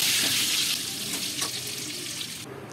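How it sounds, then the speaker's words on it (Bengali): Potatoes fry in a pan at home during a Bengali family cooking session, giving a steady close sizzle that fades slightly partway through, with a brief stir or clatter near the end. "আলুগুলোকে ভাজছে এখানে।"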